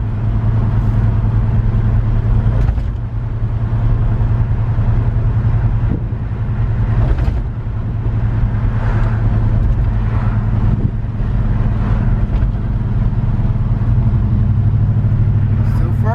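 A 1955 shop truck on its first test drive rumbles steadily from inside the cab, a loud continuous low engine drone with slight swells as it accelerates and a brief dip midway.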